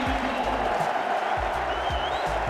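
Stadium crowd at Stamford Bridge giving Ashley Cole a loud, steady roar of cheering and applause, a dense continuous wall of noise with low rumbling thuds throughout.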